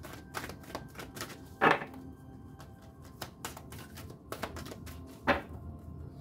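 Tarot cards being shuffled by hand, giving quiet riffling and soft slapping taps with a couple of sharper snaps, close and alone with no talking.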